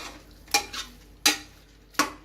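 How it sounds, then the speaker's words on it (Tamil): Chicken pieces being stirred in a pressure cooker for biryani: three distinct scraping clatters of a spoon against the metal pot, with a soft sizzle underneath and no talk. "வாங்க சிக்கனை போட்டு ஒரு பெரட்டி 1 இல்லைன்னா 2 பெரட்டு பெரட்டிட்டு"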